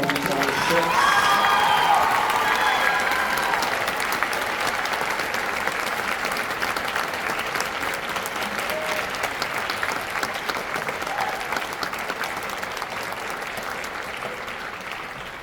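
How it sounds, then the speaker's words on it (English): A concert audience at a school spring band concert gives long, sustained applause for the graduating class of 2026, loud and dense at first with some cheering, then slowly thinning over about fifteen seconds. "One more big round of applause for our class of 2026."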